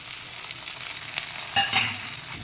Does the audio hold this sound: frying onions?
yes